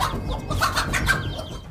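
A chicken facing off against a snake gives a short burst of raised, agitated clucking calls, close and clear over a light background.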